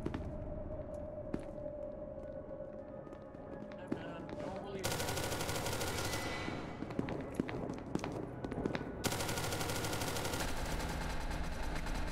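Gunfire in the video game SCP: Secret Laboratory starts as scattered sharp shots and becomes loud sustained automatic bursts, with people talking over the shooting.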